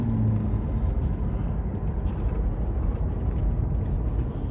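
A 1993 Buick Roadmaster Estate station wagon cruising on the road, giving a steady low rumble of engine and tire noise inside the cabin, even and continuous with no talk.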